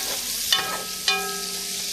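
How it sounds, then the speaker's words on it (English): Smoked sausage browns in a pan for red beans and rice: a continuous close sizzle broken by two crisp utensil knocks about half a second apart, with no talking. "Some of it's getting a nice good brown on that smoked sausage."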